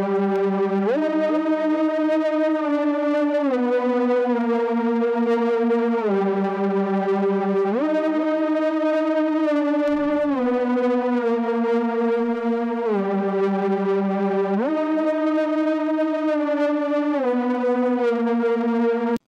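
A DOOM-style synth lead plays a stepping melody of sustained, buzzy harmonic notes, soaked in delay and reverb so each tone trails into the next, loud and alone without any voice.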